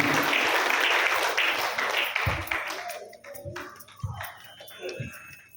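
An audience at a health-awareness gathering applauds the organizing team, a dense burst of clapping that starts loud, thins out after about three seconds and trails into a few scattered claps and thumps.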